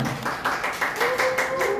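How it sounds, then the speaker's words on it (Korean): Brief, soft clapping from a small church congregation in Korea, evenly paced and a little distant, with a faint voice underneath. "우리 한번 박수로 환영하면 좋겠습니다."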